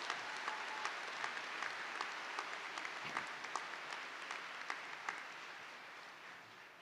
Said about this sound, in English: Please give a round of applause for our scholastic recognition.